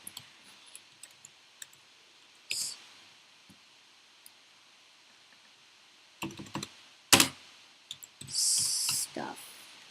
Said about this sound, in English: I'm just going to try typing this in.